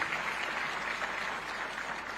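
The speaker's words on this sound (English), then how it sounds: "I think we may clap for Zambia Sugar again" Audience clapping at a private sector day gathering, a continuous dense wash of many hands applauding at steady loudness, with no speech over it.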